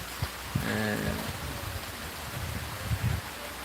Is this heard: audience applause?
no